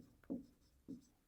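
Pencil strokes scratch on paper in two short, soft bursts, close and quiet, as prime numbers are written out during a maths lesson.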